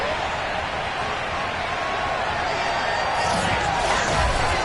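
Sellout stadium crowd at a Falcons versus New Orleans Saints football video game, a dense, steady roar filling the space, loud and continuous with faint swells.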